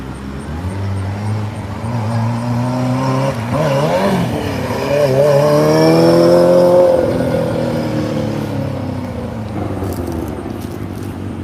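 A car pulls away on a roadway at night during a police operation, its engine revving up and climbing in pitch, then easing off as it drives off, loud and fairly close with steady road noise and no talking.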